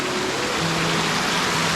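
Water pours down a waterfall in the forested hills of El Merendón, Honduras, a close, continuous broadband rushing roar with a faint low tonal hum beneath it.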